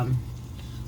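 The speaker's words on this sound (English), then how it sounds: "we're going to let those saute for about 3 to 4 minutes" Onions sautéing in butter in a pan for mushrooms and cauliflower, a steady low sizzle with a brief stirring scrape at the start, close and fairly quiet.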